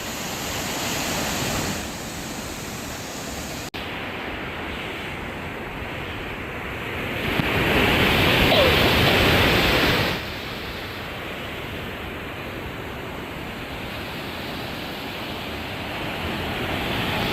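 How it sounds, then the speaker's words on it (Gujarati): Waterfall flowing outdoors, a broad continuous rushing of water that swells louder for a few seconds midway, with no talk over it. "મિત્રો અત્યારે તમે જોઈ શકો છો મતલબમાં મસ્ત મજાનું ઝરનું વહે છે"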